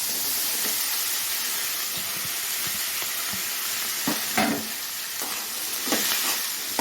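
Sliced carrots and broad beans stir-fried in a hot pan for vegetable poriyal, a continuous sizzling hiss with scattered scraping stirs and spatula knocks, close and steady.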